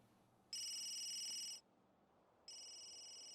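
An electronic phone ringtone in The Sims 3, two bright trilling rings, about a second each, separated by a short pause and heard clearly on their own.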